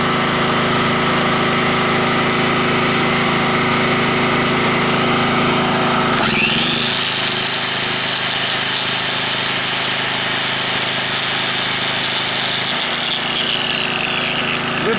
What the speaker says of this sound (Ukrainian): Але ми підключаємо шліфмашину.